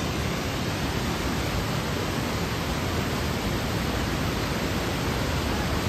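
Brisco Falls waterfall in British Columbia, Canada, rushes as a loud, dense, unbroken roar that fills the whole stretch with no other sounds on top.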